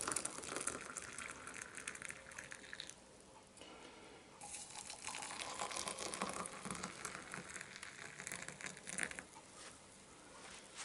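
Freshly boiled water pours from a kettle while field ration food is prepared, a steady close gushing and splashing that runs for about eleven seconds, dipping briefly near the third second before resuming.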